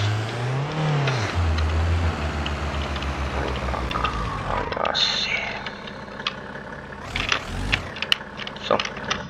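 A Mercedes-Benz W124 is driven in the video game BeamNG.drive. Its engine hums loudly, rises and falls as it pulls ahead, then drops to a quieter idle as it stops, with someone talking over it.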